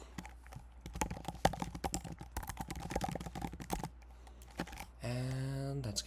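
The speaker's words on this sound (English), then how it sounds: "I'm kind of more used to typing things out by hand anyway" Rapid, uneven clatter of keys on a computer keyboard fills most of the stretch, with sharp close clicks in bursts, before a steady tonal sound takes over at the end.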